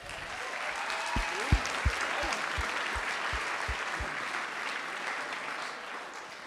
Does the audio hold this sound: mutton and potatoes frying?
no